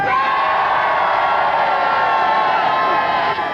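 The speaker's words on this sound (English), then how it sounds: "Give a round of applause to Alan!" A crowd at Earl's Court cheers, whoops and shouts loudly without pause at the National Computer Games Championship 1992 prize-giving, a dense wall of audience noise throughout.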